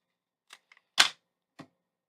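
Post-it tape is pulled off in a few quick, dry clicks and rips, with a louder central tearing sound while a thank-you card is made, close and alone.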